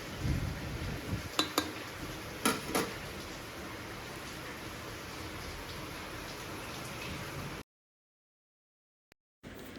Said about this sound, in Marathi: आता पाऊस बघा केवढा पडतो, खूप मोठा पाऊस पडतो.